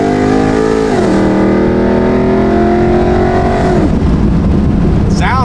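A 700-horsepower Chevrolet Corvette C6 Z06 makes a loud full-throttle pull on 93 pump gas, its engine note climbing steadily through two gear shifts, heard close and continuous.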